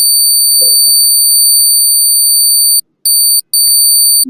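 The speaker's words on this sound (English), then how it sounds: "Sorry, there's a lot of beeping." Repeated electronic beeping alarm with steady high-pitched tones running through, cutting out briefly twice near the end; loud and continuous, no speech.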